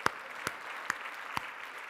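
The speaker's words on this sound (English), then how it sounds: "let's clap, man. We got this!" A few slow, sparse claps ring out in a room as a small audience claps together, four distinct sharp hits spaced roughly half a second apart, faint and without voices.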